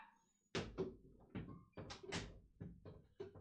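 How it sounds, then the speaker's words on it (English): A door bangs and rattles shut several times in quick, uneven succession, each thud close and fairly loud with short knocking echoes, no talking over it. "I'm just gonna have to close the door."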